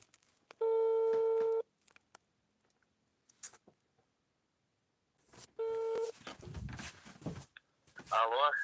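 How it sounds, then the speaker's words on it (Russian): A phone call ringing out over speakerphone: two long, steady ringback tones separated by a pause, each cut off by clicks, followed by voices answering and talking. "Звоним. Нажимаю громкую связь"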